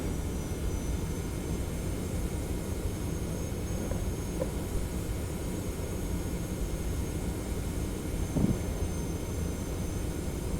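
Boeing 717 jet engines in a flight simulator game hum steadily on a night approach into Innsbruck, a continuous even drone with a brief faint click near the end.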